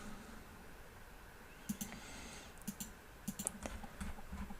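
Several faint computer mouse clicks, press and release, come in small clusters against quiet room tone, with no talking.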